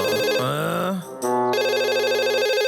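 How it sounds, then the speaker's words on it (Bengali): A cartoon telephone rings loudly and insistently in repeated electronic trills. There is a short dip before the ringing resumes and continues without pause. "ইস কি জোরে ফোন বাজতাছে"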